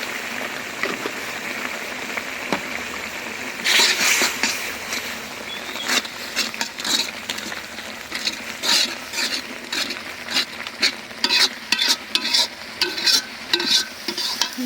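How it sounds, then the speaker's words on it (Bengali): Chilli and coriander powder spices sauté in a pan with a steady sizzle, while a spatula scrapes and stirs in frequent sharp clicks, close up and with no voices. "মশলাটা ভালো করে কষিয়ে নিলাম।"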